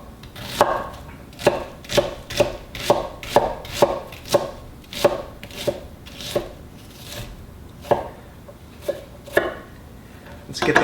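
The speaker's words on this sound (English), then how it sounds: "slice about it as wide as a kernel of corn" A knife chops vegetables on a cutting board for a fermented corn chutney, giving a steady series of crisp, close knocks, about two per second, that briefly pause and then resume.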